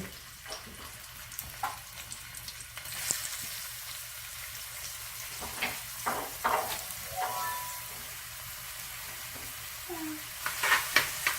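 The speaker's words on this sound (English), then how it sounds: "And the red onion, which I'll be adding into the oil." Chopped red onion going into hot oil in a pan for a Dominican vegan spaghetti sauce, giving a soft, steady sizzle with scattered crackles and occasional stirring clinks, no talking.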